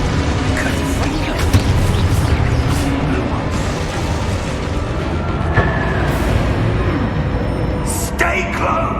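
Dense, continuous booming and crackling blasts from Confringo fire spells in a Hogwarts Legacy battle on PS5, loud and layered with game music and shouted combat voices throughout.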